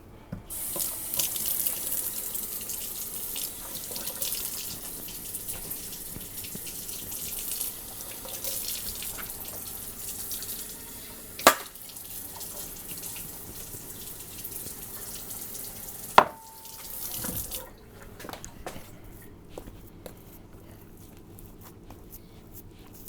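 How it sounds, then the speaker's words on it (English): Tap water runs into a bowl of tamale masa, a steady faint hiss from a faucet, with a couple of sharp clinks and a brief change in flow near the end. "I might need to add a little bit of water to it."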